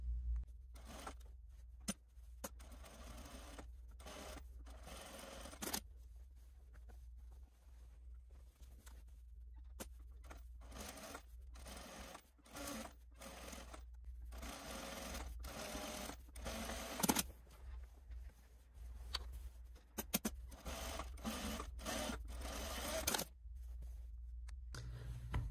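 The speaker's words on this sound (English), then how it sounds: "You're going to top stitch 2 rows at the top of the front yoke, 1 at 1/16 and another at 1/4." Sewing machine top stitching a front yoke on a garment, running in short irregular bursts of rapid needle chatter separated by pauses, fairly quiet and close, no talking.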